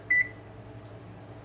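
A single short electronic beep from an oven keypad as its timer is set, then quiet low hum.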